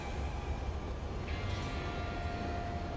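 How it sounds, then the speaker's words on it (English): Freight locomotive engines (EMD Geeps) idle with a steady diesel rumble and faint whine in the Railworks train simulator on Marias Pass, continuous and fairly close with no voices. "Hear their engines running"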